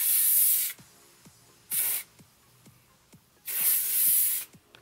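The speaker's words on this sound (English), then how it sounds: "And I spray each section." Three bursts of L'Oréal Boost It High Lift Creation Spray hairspray hiss close by, the first and last long and the middle one short, with faint handling clicks in between.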